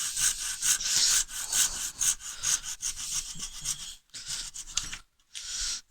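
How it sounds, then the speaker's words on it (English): Hand saw cutting down through an upright piece of wood clamped in a vise for a dovetail halving joint, with steady rhythmic rasping strokes, close and fairly loud, pausing briefly near the end. "do the final cut directly down the way, just to remove that last little bit of remaining wood."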